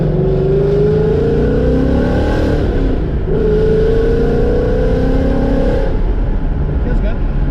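A Vortech-supercharged 2019 Ford Mustang GT running on C16 fuel pulls away, its loud engine droning and rising in pitch through two acceleration pulls heard from inside the car.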